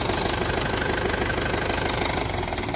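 A tractor engine chugs steadily in a wheat field at night as irrigation ridges are formed, a loud, close, rhythmic diesel knock with no voices.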